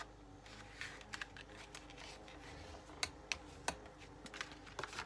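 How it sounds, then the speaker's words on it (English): A paper card being folded and burnished for a fun-fold card, with soft crinkling and several sharp, close crisp creasing clicks scattered over a quiet background. "I'm going to fold and burnish this side."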